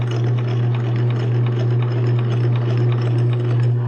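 A sewing machine stitching bulky fabric with a hump jumper under the presser foot, a steady close whirring hum with a fine rapid rhythmic clatter running without pause.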